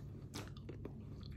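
Fresh blueberries bitten and chewed up close, a soft crunch followed by a few moist squishy chews, quiet over faint background hum.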